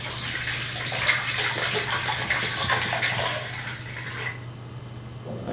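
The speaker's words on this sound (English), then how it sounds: "if you take some water and you fill up the bowl a little bit" Water poured into a bowl while building a Hero's fountain: a steady, close rushing splash that runs for about four seconds and then thins to a quieter trickle.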